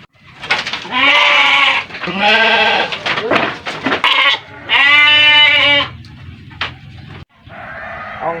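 A goat, a badot, bleats loudly and close in several long wavering calls, a couple of shorter bleats in between, with a brief human voice mixed in.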